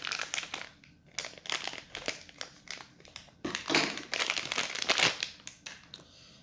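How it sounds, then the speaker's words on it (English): Packaging for a Logitech G305 wireless mouse is cut and torn open up close, a run of crinkling, rustling plastic and paper with sharp crackles in irregular bursts. "I'll just cut it open."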